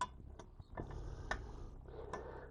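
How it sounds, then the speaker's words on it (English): Ratchet with a 16 socket tightening a fitting on a La Pavoni espresso machine sight glass mount, faint sharp clicks spaced irregularly over a quiet mechanical background. "So we're going to take our ratchet. This one has pretty good clicks."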